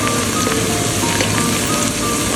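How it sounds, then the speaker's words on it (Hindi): Two medium onions frying in oil for chicken Kabuli pulao, giving a steady, dense sizzle and crackle close by, with no talk over it. "हमने प्याज ले लिए, दो मीडियम साइज़ के, उसको मैं ऑयल में फ्राई करूँगा"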